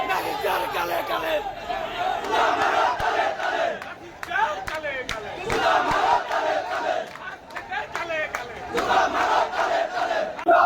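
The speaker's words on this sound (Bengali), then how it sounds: "এখানে আমরা দেখতে পাচ্ছি বিএনপি কর্মীরা নানা স্লোগান দিচ্ছেন" BNP activists at a protest rally chant slogans in loud, rhythmic call-and-response bursts from a dense crowd, voices rising and falling in waves, with a nearby voice speaking over the noise.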